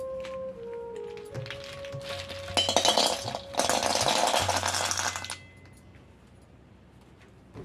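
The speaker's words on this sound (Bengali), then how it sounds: "কড়াটা বসিয়ে দেবো উনুনে।" A metal wok clatters and scrapes as it is set down on a clay stove, with rattling clinks over about three seconds, a brief pause, then more scraping before settling into quiet.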